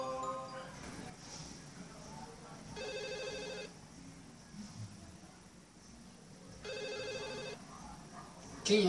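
A telephone rings twice in a quiet room, each ring a short electronic trill of about a second, spaced roughly four seconds apart, faint and slightly distant.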